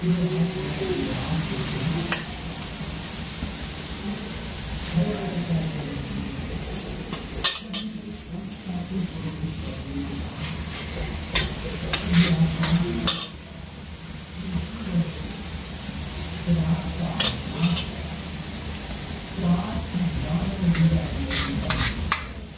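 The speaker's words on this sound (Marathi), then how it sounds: "तर आता तेलामध्ये टाकले त्यांनी पानं फुलं सगळं मिक्स करूनच तेलामध्ये टाकायचं" Chopped lemon leaves and flowers, mixed together for a homemade hair remedy, sizzle steadily in hot oil, with frequent stirring scrapes and clinks against the pan throughout and a brief quieter moment partway through.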